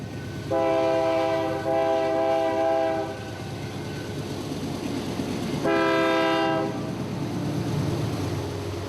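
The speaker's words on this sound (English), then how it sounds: "The two UP-8s were giving everything they had to get this power plant fuel up the side of Braswell Mountain" Two Union Pacific locomotives haul a power plant fuel train uphill on Braswell Mountain, sounding long, loud multi-tone horn blasts in two bursts over a steady low engine rumble and rolling rail noise.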